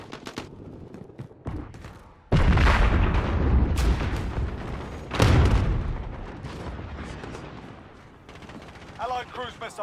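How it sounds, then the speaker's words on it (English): Cruise missile strike in Call of Duty Modern Warfare, with loud booming impacts and rumbling blasts arriving in two big bursts amid scattered gunfire, fading into distant battle noise. "Allied cruise missile away."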